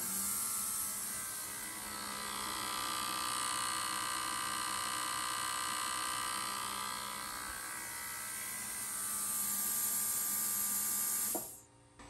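Oxygen gas rushes through the gas control system of a DIY fiber laser tube cutter as a steady, loud hiss that holds for about eleven seconds, then cuts off abruptly.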